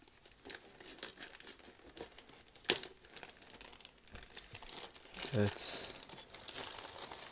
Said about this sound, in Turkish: Jelatinden çıkardık.